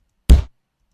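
A single deep bass kick, layered from samples pitched down with extra low end added, thumps once with a short boomy decay, followed by silence.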